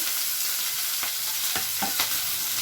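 Capsicums just dropped into hot oil: a loud, dense, steady sizzle with three short scraping stirs near the end, no talking.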